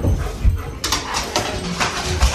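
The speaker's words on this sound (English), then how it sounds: "The dog's losing his mind." A household dog whimpers and gives short excited yips and barks indoors, fairly close, in brief bursts over a steady background hum.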